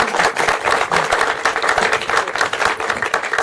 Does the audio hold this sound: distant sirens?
no